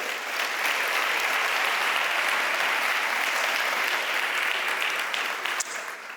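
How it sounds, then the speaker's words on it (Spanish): A gala audience applauds for the grandparents, a full, sustained round of clapping that stays even and loud before tapering slightly at the end. "os voy a pedir un aplauso para ellos"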